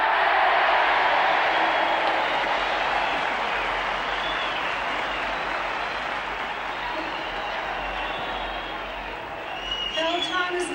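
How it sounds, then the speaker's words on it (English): A large outdoor crowd at an Australian outback opera concert cheers and applauds for Australia, a loud, dense, sustained roar that keeps going without a break. "So one last big cheer for this whole event"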